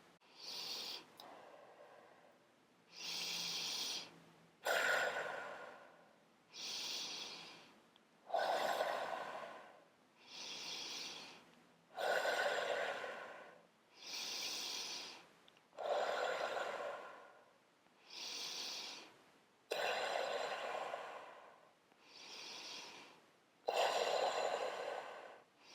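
A steady sequence of deep breaths during beginner exercises, about a dozen slow, regular inhales and exhales, each a separate airy rush of sound, close to the microphone in an otherwise quiet room.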